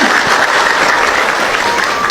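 Sustained applause from a church audience, dense and steady throughout with no break, filling the space.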